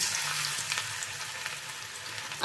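Batter-coated potato pakoras deep fry in hot oil with a dense, steady bubbling hiss, close and continuous, and no voices.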